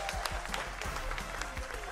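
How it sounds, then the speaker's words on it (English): Studio audience applause on a game show, a short burst of dense clapping from a modest crowd that stays fairly even throughout. "I thought you were going to clap for that."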